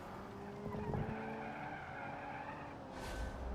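A car brakes hard and skids in the racing game BeamNG, with a long continuous tire squeal over the engine drone, ending in a brief rough scrape.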